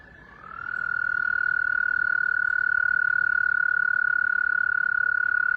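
A singing frog from a physics lesson on waves produces one long, pure, whistle-like tone. It swells in after a brief quiet start and then holds steady and loud, with no talk over it.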